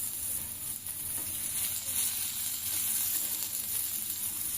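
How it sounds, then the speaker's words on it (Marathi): Broccoli shallow-frying in a pan with a little oil gives a continuous soft, crackling sizzle, steady and close but fairly quiet, with no one talking. "असंच कमी तेलावरती आपण हे शॅलो फ्राय करून घेऊया।"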